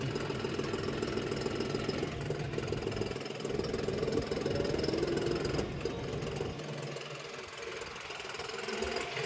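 A John Deere 5405 4x4 CRD tractor's diesel engine runs steadily nearby, a continuous throbbing drone with a slightly knocking texture and no talk.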